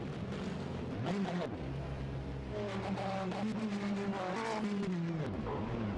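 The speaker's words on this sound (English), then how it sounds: "off again goes the Ferrari, because with 3 wheels on his wagon, that is not proving easy to drive" A Ferrari race car on three wheels in the Le Mans 24 Hours virtual racing game, its engine revving and whining through gear changes, loud and sustained, with commentators talking over it.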